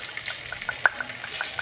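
Oil sizzling in a pot for Cuban oxtail stew, a soft, steady hiss with faint crackles and a few small metallic ticks, no speech.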